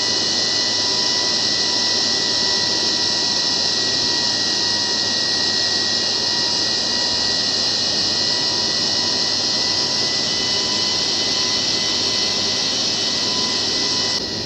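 Steady whine and rumble inside a simulated Aeromexico Boeing 737 MAX 9 in Aerofly FS Global as the landing gear lowers, a constant loud drone with a high tonal hum and no break or distinct clunk.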